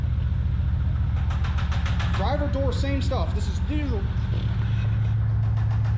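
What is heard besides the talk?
1990 Maserati TC 3-liter engine running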